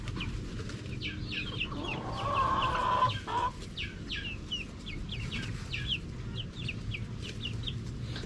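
Young chickens roaming loose on a small farm cluck and chirp steadily over a low, rumbling farmyard background, with a brief louder squawk partway through.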